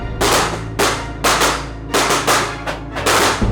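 Firecrackers popping close by in a steady series of about seven sharp, loud bangs, each ringing briefly before the next.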